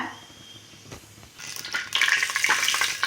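Hot oil sizzling in a pan for vegetable biryani made with seeraga samba rice, a quiet hiss at first that swells into a louder, steady crackling sizzle over the last half, with no voices.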